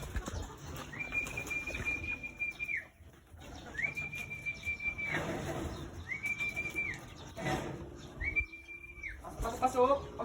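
Racing pigeons returning to a loft in Muntinlupa, Manila, with four drawn-out whistle tones repeating at steady intervals, over outdoor background noise.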